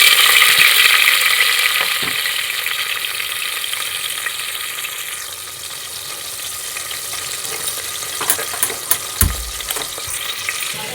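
Chopped tomato and brinjal sizzle loudly in hot oil with mustard seeds and cumin, a dense steady frying hiss with occasional stirring scrapes and clinks of a spoon against the pan near the end.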